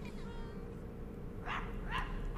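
A scruffy dog in the game My Friendly Neighborhood gives two short yips in quick succession over a low background hum.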